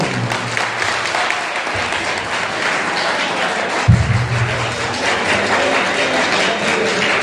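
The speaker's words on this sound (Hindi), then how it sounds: "हम सभी आज के कार्यक्रम के मुख्य अतिथि एक बार जोरदार तालियों से स्वागत करें।" An audience at a district-level youth parliament event applauds to welcome the chief guest, giving a steady wash of clapping with a few thumps from the microphone underneath.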